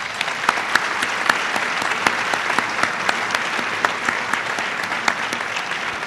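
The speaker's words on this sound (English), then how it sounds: "give a round of applause for the wonderful faculty, staff, and administration" Steady applause from a high school graduation audience at Terryville High School, dense clapping that continues evenly for several seconds with a few sharper claps standing out.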